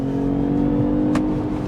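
A BMW X1 xDrive plug-in hybrid drives hard under acceleration, its steady engine drone and tonal whine holding loud and close throughout, with a brief brighter burst midway as the car oversteers.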